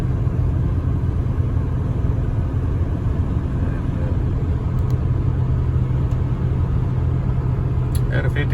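A low-mileage survivor Mercury Monarch cruises along a highway, its steady engine and road rumble droning loudly and evenly from inside the car, with faint ticks near the end.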